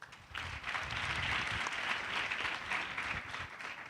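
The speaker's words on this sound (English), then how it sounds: "Round of applause." A crowd gives a round of applause at a youth event, steady clapping that swells quickly and holds evenly for a few seconds at moderate distance.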